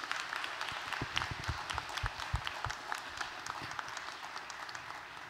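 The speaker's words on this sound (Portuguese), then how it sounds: "Você pode aplaudir o Senhor pela vida deles?" A church congregation applauds during a celebration service, a steady wash of clapping hands with a few louder nearby claps, continuing evenly throughout.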